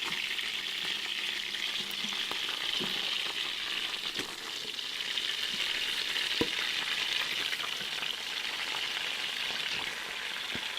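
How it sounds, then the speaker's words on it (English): Flour-coated pieces of chuck roast beef sear in melted butter, giving a loud, steady crackling sizzle that runs unbroken throughout, with scattered pops and spits. "Once your butter melts, you're going to add your coated pieces of beef."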